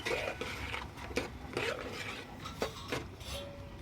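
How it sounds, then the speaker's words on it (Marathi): Broccoli is stirred and sautéed in spices in a pan for pulao, with soft scraping and repeated spatula knocks against the pan over a low background hiss, and nobody speaks. "ब्रॉकली टाकल्यानंतर सुद्धा छान असं परतून घ्यायचं आहे"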